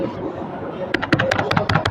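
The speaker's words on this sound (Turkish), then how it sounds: "Klavye sesi." After a second of low background hum, a quick run of crisp key clicks starts, nearby and moderately loud.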